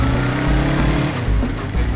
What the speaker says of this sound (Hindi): देखिए वो किडनैपर बाइक लेके भाग रहा है।